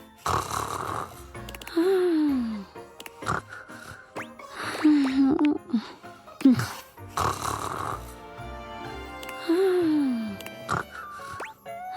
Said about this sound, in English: there would be like clues in the snore sounds, like they'd change very slightly